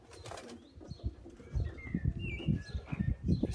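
Old cock racing pigeons at a loft, close-up wing flapping and fluttering with soft cooing and a few thin chirps over irregular bursts of movement.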